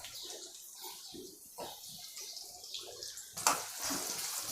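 Chopped onions hit hot oil in a pan for a Mangalore-style chicken curry, giving an uneven crackling sizzle with short pops that swells into a brighter, steady hiss toward the end.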